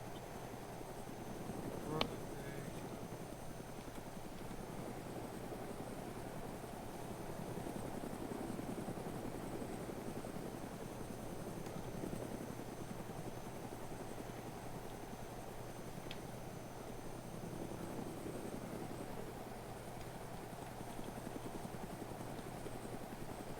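Helicopter flying low in the video game DayZ, a continuous rotor drone and engine whine that holds steady throughout, with a couple of brief clicks and faint voices in the background.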